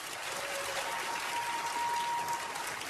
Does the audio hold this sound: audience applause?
yes